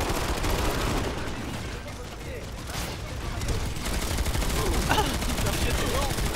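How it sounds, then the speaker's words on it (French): Turret gunfire in the PlanetSide 2 video game, rapid bursts of shots crackling continuously over a noisy battlefield background while players talk over it. "sortez vos tourelles et tirez dessus"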